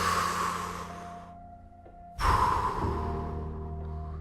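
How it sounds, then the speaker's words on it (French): One slow, deep breath, a single audible inhale and release, sits close and soft over a gentle sustained musical backing. "Prenez une grande respiration."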